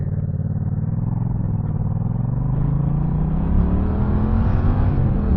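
A 2017 Yamaha MT-07 motorcycle accelerating hard into a wheelie, engine rising steadily in pitch with loud continuous rumble and wind noise, close and alone with no talk.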